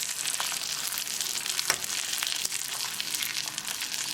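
Atlantic salmon pan-frying over gas, a steady, dense crackling sizzle with a couple of sharper pops, close and continuous throughout.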